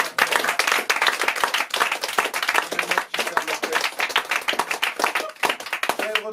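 Audience applause at a live comedy or stage show, enthusiastic rhythmic clapping that is loud and sustained, with voices calling out underneath.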